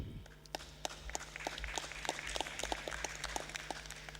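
Scattered, sparse handclaps from a few people at a city council meeting, irregular and fairly distinct over a steady low electrical hum.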